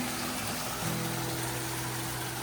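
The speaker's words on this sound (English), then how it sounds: "We found this mini waterfall" A small waterfall and stream beside a hiking path give a steady, broadband rush of flowing water at moderate level, continuous and alone with no voices.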